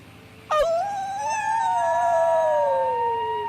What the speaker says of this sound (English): The dogs howl with their master.